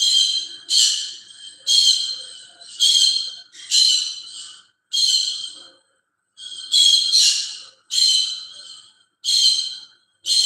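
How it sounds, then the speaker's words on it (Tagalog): A bird squawks loudly and repeatedly in harsh, evenly spaced calls, close by, with brief pauses between them. "maingay yung ibon ko"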